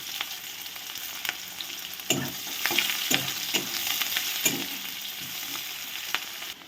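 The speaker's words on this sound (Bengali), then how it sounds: "এবার আমি তেলের মধ্যে কেটে রাখা পেঁয়াজ আর কয়েকটা চেরা কাঁচা লঙ্কা দিয়ে দিলাম।" Chopped onion and a few slit green chilies fry in hot oil with a close, crackling sizzle. Repeated scraping strokes of a spatula stir them at an irregular rhythm, and no voices are heard.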